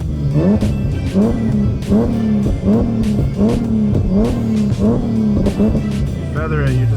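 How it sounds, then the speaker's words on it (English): A tuned Nissan G37 held on a two-step from a standstill, its engine bouncing off the limiter in a fast, steady, loud stutter of repeated revs, the rhythm breaking near the end. "if you mash the gas, you can two-step it."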